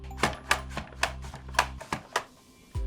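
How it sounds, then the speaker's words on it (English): A Rapid Prep Mandoline cuts sweet potato on its fry cut setting, giving a quick series of about seven sharp, close chopping clacks over a low hum, then a short thud at the end. "To make diced sweet potato, I'll first cut them on the fry cut setting."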